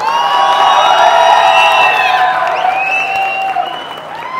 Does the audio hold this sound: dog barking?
no